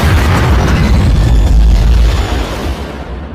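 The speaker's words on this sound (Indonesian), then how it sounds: "Ray pun meledakkan dirinya bersama Dr." A loud, sustained explosion from the 2020 action film Bloodshot, a heavy low rumbling blast that fills the scene and slowly fades toward the end, with no voices over it.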